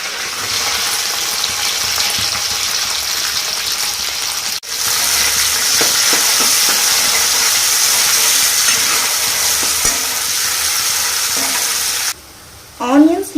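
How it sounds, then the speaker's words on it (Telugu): Chopped onions frying in a pan of hot oil for egg curry, a loud continuous sizzle and hiss with occasional stirring scrapes, ending in a brief quieter moment and a short clatter. "అందులో కట్ చేసి పెట్టుకున్న ఆనియన్ ముక్కలు వేసుకోవాలి"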